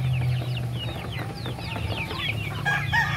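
Chickens clucking in a small farm coop, a dense close chorus of overlapping clucks and short calls with a steady background hum and a few higher squawks near the end.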